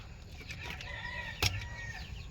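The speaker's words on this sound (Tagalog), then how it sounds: "Dalawang manok, dalawang pato." Faint chicken clucking and a brief rooster call against a steady background murmur, with one short louder burst midway.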